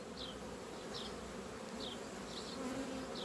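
Bees hum and buzz steadily close by as they are shaken off a hive frame, with short higher buzzing sweeps recurring every second or so over a constant drone.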